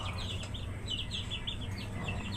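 An SBR gamefowl chicken clucking and chirping near a farm pen, a string of short, bright calls repeating over a steady low background hum, moderately close.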